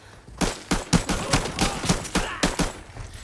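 Gunfire from a weapon in the video game Arena Breakout: about eight loud, sharp shots in a fairly steady rhythm, each with a short crack and tail, with no talking.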